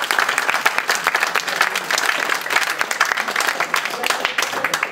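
An audience at a university event bursts into sustained, lively clapping that stays loud and even throughout, with voices mixed in under the applause.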